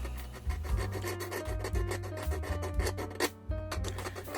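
A Chinese-made diamond file rasps across metal model train parts in quick, regular back-and-forth strokes, close and fairly quiet.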